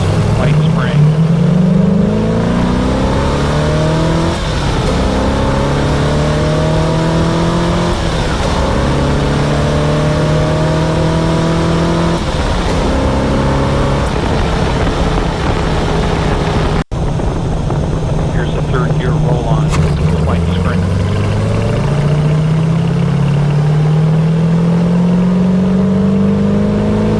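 A car with a Holley 4160 vacuum-secondary carburetor fitted with a white spring, accelerating hard through four gears: loud engine revs climb and drop with each shift, repeating in a steady rise-and-fall pattern, close and unbroken.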